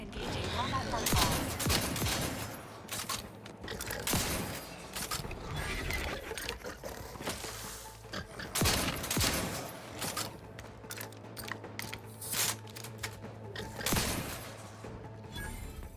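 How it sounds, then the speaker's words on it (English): Close-quarters shotgun blasts in The Outer Worlds 2 boom repeatedly amid combat noise and mechanical clatter, loud bursts spaced a second or two apart, with a voice talking over parts of the fight. "this switching to shotgun in here with this close combat, way better than the rifle"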